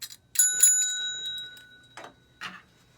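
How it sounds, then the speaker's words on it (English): A small handheld bell rings near and bright, two quick strikes with a lingering shimmer, then two more short, separate dings, brought out as a home prop for an online murder mystery theatre game. "We have a bell."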